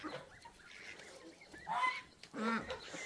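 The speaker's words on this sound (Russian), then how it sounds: "Боже, гусята старшие с меньшими дерутся." Goslings fighting, older ones against smaller ones, giving a couple of sharp, close honks with softer squabbling calls between them.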